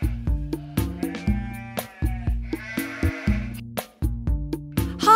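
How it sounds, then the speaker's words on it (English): Cartoon black sheep bleating repeatedly in short, wavering calls over a bouncy nursery-rhyme backing, the bleats loud and close. "A black sheep."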